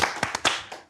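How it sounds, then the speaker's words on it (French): A few sharp hand claps ring out in a sparse, brief burst, four or five close slaps spaced unevenly within under a second. "On l'applaudit encore."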